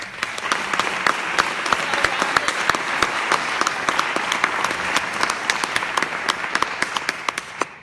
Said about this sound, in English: will you all join me in giving a round of applause